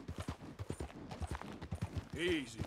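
Horse hooves clip-clopping in Red Dead Redemption 2, steady close rhythmic thuds that slow as the horse is reined in, with someone talking over them and a brief whinny-like tone near the end.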